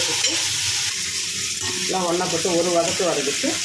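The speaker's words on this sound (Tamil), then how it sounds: "எல்லாம் ஒன்றா போட்டு ஒரு வதக்கிட்டு" Curry leaves, green chilli, onion and tomato sautéing together in a hot pan, a steady close sizzle with repeated scraping stirs toward the end.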